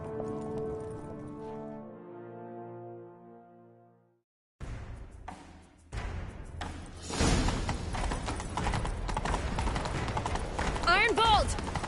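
Galloping horse hooves in The Witcher 3 video game drum in a steady rapid rhythm beneath loud music and voices, following a brief stretch of sustained orchestral tones.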